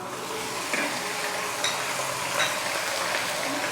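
Onion frying in a pan, a steady close sizzle with faint crackles and occasional light stirring, no talk.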